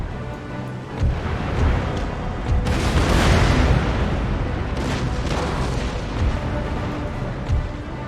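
Heavy ship cannons fire a broadside in an Empire: Total War naval battle, a rolling series of deep booms merging into a loud, sustained thunderous roar over constant battle noise.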